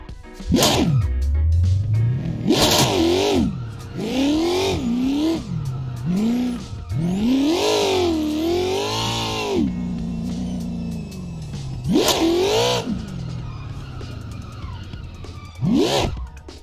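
A car drifting in the Assetto Corsa racing game, throttle held, loud engine revs rise and fall in repeated swells with sharp tire squeal bursts, ending in short separate blips.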